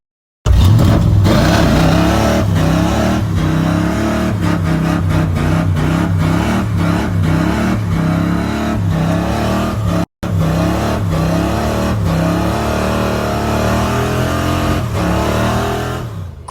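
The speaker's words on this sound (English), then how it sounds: "Great burnouts." Ford F100 truck doing burnouts, its engine revving loud and hard with wavering pitch and a roaring, continuous tire-spinning rush that breaks off briefly midway and resumes.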